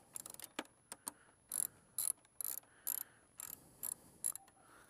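A ratchet loosens the nuts holding a sport bike mirror, giving a series of quick clicking bursts with short pauses between them, close and fairly quiet.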